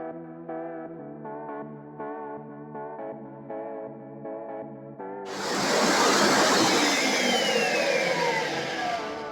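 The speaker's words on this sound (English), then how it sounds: "We're now going to add the milk and the cheese mixture in the food processor to blend for about 2 minutes." A food processor starts up and blends milk with a cheese mixture, giving a loud, steady, dense whirring roar that continues to the end. It follows a stretch of tonal background music.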